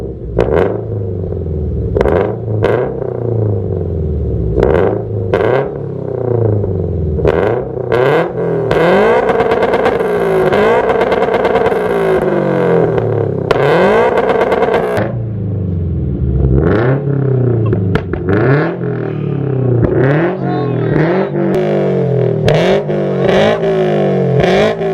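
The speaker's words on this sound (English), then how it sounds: "I don't want to bother people with this loud exhaust" A car with a loud Greddy Evo GT aftermarket exhaust revving repeatedly, close and loud, with sharp throttle blips rising and falling and a longer sustained rev in the middle, no talking.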